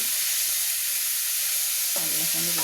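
Onions sauté in a hot pan for chicken curry, giving a steady close sizzle and hiss, with a brief stirring or scraping sound near the end.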